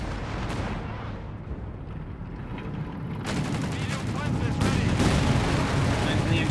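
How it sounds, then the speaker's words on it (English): Tank guns firing and heavy battle noise in the Company of Heroes 3 strategy game, Afrika Korps against US Forces: dense rumbling explosions and gunfire filling the mix, with a commentator's voice underneath. "Tank guns, Panther 3 sweeping in."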